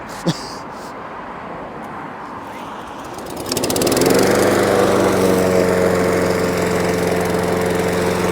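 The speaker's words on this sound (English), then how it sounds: "starting to mow with broken fingers is tricky" A SABO 54 Pro Vario walk-behind lawn mower runs at low speed through wet grass, its steady engine drone swelling up after a quiet start and holding a constant hum close to the microphone.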